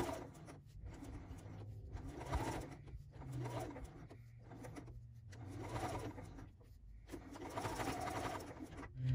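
A sewing machine stitches fabric letters in quick bursts of rapid mechanical whirring, with short pauses between runs, close and moderately loud.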